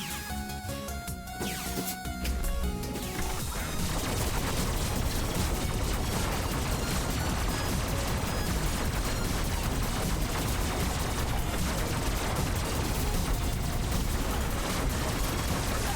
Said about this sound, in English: I am shooting too many bullets for that.